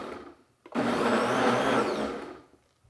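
A Ninja Foodi hot and cold blender whirs loudly and steadily for about two seconds while pulsing gravy, starting abruptly and then winding down into quiet.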